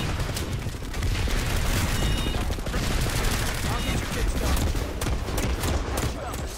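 Gunfire in Planetside 2, dense overlapping bursts of rapid automatic shots, loud and sustained with booming low end throughout.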